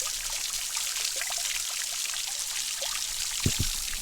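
Water runs and splashes steadily into a jungle hotel pool at a Costa Rica treehouse resort, a continuous hissing trickle with a couple of louder drops near the end, no voices.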